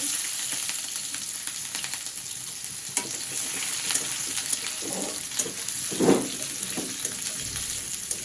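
Chopped onion frying in oil in a pan, a continuous close sizzle with occasional stirring scrapes and a louder clatter of the utensil partway through, no voices.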